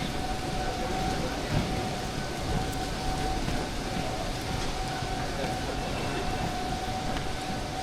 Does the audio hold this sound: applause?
no